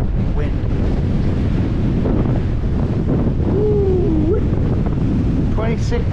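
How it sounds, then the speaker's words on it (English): Strong, steady wind buffets the microphone at a wild camp beside a budget tent, a loud continuous rushing roar with a faint voice murmuring underneath. "26 mile an hour wind."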